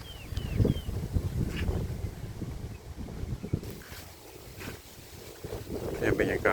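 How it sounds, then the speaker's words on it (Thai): Wind gusts buffet the microphone at a temple chedi in Roi Et, Thailand, in the early cool season: a steady low rumble with uneven surges and a few faint higher chirps and voices in the background. "ช่วงนี้มันเริ่มเข้าหน้าหนาวลม แต่ว่ายังไม่ค่อยแรงเท่าไหร่หรอก"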